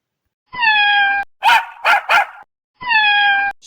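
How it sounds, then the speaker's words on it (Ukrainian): A cat meows twice, long and drawn out, with a burst of three sharp dog barks in between, close and loud. "Це котик і песик посварилися."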